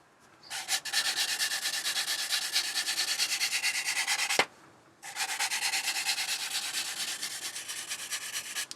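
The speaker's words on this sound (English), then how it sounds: "So we'll quickly sand these up." A power sander works lightly over plastic parts of a Tamiya 1/32 Vought F4U-1 Corsair Birdcage model in two steady, pulsing bursts separated by a brief pause, close and fairly loud, with no talking.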